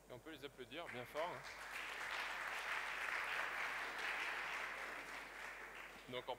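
Sustained audience applause at an e-commerce awards ceremony, a dense, distant wash of clapping between brief bits of a presenter's voice at the start and end.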